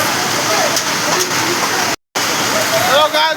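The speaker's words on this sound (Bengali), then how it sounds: "বৃষ্টিতে আমরা আটকে গেছি এখানে" Heavy rain pours down in Garia, Kolkata, a dense steady hiss of water lasting throughout, broken by a brief silent gap, with faint voices underneath.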